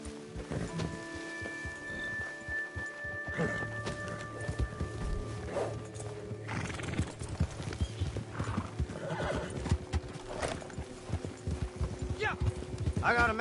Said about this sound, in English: Get your horses.